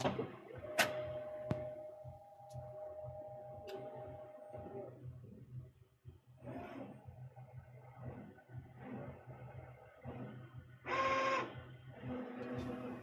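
A direct-to-garment T-shirt printer runs nearby with a steady mechanical hum, sharp ticks and a sustained whine, plus a brief louder burst of carriage movement near the end.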